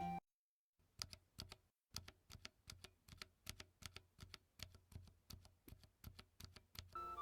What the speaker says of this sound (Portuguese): esse é o som do switch vermelho